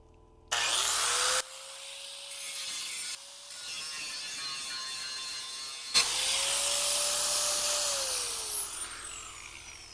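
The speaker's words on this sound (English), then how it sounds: "Grind that off first." An angle grinder works metal on a homemade trailer, a loud steady whine that drops out briefly and restarts, with harsh hissy grinding noise throughout and no talk.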